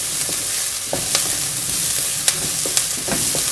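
Lightly sautéed onions with thyme sizzle loudly in a pan while being stirred, the constant hiss punctuated by several sharp scraping and tapping strokes of a spoon.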